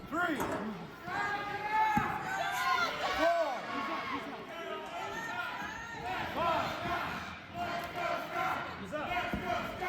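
Crowd noise at a WrestleBowl 2022 Last Man Standing wrestling event in Axtell, the audience roaring and chanting steadily throughout and heard beneath excited commentary.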